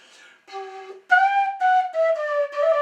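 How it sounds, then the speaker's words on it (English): A pennywhistle, not a G whistle, plays a short phrase of clear, bright notes, sliding smoothly upward into a sustained high note, solo and close. "you can slide up to that top note"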